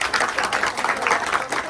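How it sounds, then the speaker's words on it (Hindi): A crowd at a gathering breaks into dense, steady applause, loud and continuous for under two seconds, with voices faintly mixed in. "जोरदार तालियां भैया आप सब"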